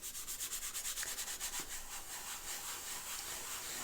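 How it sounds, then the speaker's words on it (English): Charcoal powder is rubbed onto paper in a circular motion, a soft rhythmic scuffing that pulses quickly then evens into a faint steady rub, quiet and close. "I always tend to use a circular motion when applying charcoal powder because I don't want any sharp lines showing up"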